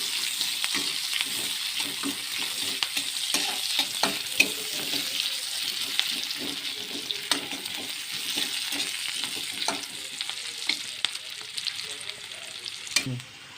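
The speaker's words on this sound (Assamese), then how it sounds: "পিঁয়াজখিনি ৰঙা নোহোৱালৈকে ভাজি থাকিম।" Chopped onions fry in hot oil in a wok for a simple village recipe, giving a steady sizzle broken by repeated scraping clicks of a spoon stirring, close and continuous until a final clatter.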